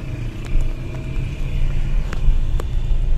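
Car driving onto a new bridge in Chitral, heard from inside as a steady low engine and road rumble with occasional light knocks and clicks over the surface, and no speech.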